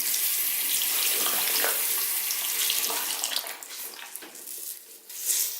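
Tap water runs over a makeup beauty sponge in a sink to rinse out shampoo suds. A steady close splashing stream breaks into irregular gushes and squishes toward the end.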